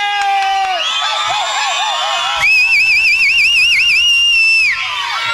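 Whistling from men in an audience at a live stage drama, several loud warbling whistles rising and trilling one after another over a murmuring crowd.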